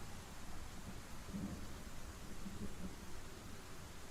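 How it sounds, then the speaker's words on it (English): Quiet, steady rain with low rumbling like distant thunder, a faint continuous wash of noise heard from indoors with no voices. "The sounds of the rain are once again a little bit more prominent as Tiny Hut fades."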